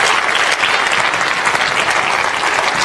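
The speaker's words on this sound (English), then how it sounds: "let's give our workers again a round of applause." Steady, dense round of applause from a church audience at a children's praise event, loud and continuous throughout with no break.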